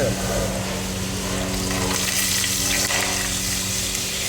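Water pours steadily in a continuous rushing stream while making chutney, close by and fairly loud, with a low background hum beneath it.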